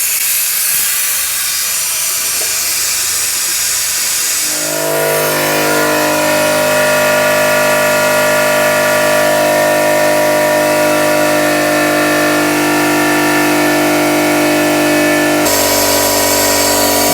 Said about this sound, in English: I will vacuum the coolant system to make sure that there is no leak.